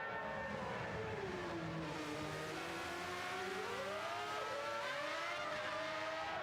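Open-wheel race car in a racing video game accelerating out of a corner, engine pitch sweeping upward through gear changes with a steady whine, moderately loud and continuous.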